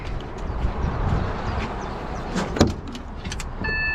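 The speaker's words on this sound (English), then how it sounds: "do his window up" The electric window of a road sweeper cab closes: a steady motor whir under the low hum of the vehicle, with a brief clunk partway through and a few faint beeps near the end.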